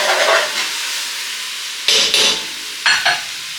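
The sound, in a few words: shrimp sizzling in pan as it is stirred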